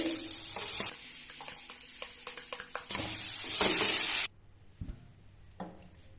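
Drumstick flower vegetable being stir-fried in a pan, a loud close sizzle with rhythmic scraping stirs, then dropping abruptly to a quiet background with a few soft knocks.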